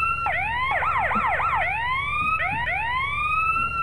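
Fire truck siren in the GTA-based game Rodina RP, loud and close, with quick yelping warbles between slower rising wails over a constant low engine hum.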